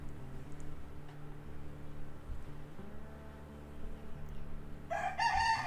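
A rooster crows once near the end, a clear rising cock-a-doodle-doo that stands out over a quiet room with a low steady hum beneath it.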